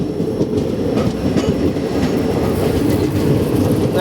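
The Vasco da Gama Patna Express rolls past close by on Indian Railways track, a loud continuous rumble of wheels with rhythmic clickety-clack over rail joints.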